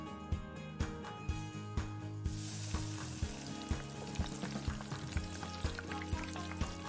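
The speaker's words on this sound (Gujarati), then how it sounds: "જે આપણે ડાયરેક્ટ પેનમાં નાખીશું અને ફૂલવડી ફ્રાય કરી લઈશું" Gujarati fulwadi, gram-flour fritters, frying in a pan over a high flame, a dense bright sizzle broken by a regular series of sharp taps and knocks, close and steady throughout.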